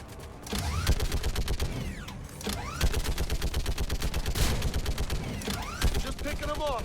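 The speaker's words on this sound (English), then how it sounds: "Now we're gonna pilot a giant space gun." Rapid, loud bursts from a giant space gun in Mass Effect, long stretches of fast repeating shots with whooshing sweeps and brief pauses between volleys.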